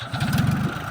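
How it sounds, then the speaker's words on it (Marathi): A tractor engine cranking and catching, a brief rapid low chugging burst of firing pulses, close and moderately loud. "तू चालू कर ट्रॅक्टर."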